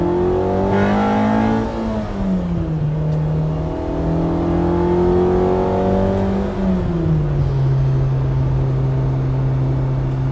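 JDM ITR B18C engine swapped into a 2000 Honda Civic Si, heard from inside while driving: a steady engine drone that rises through the revs, drops at each gear change and climbs again, loud and close.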